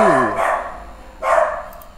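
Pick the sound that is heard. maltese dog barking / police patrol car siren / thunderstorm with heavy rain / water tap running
maltese dog barking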